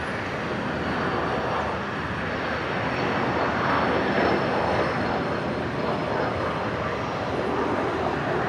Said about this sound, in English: Sounds like a fighter jet.